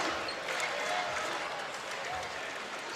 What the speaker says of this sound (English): this crowd here in the Garden, I feel like I'm in Ann Arbor right now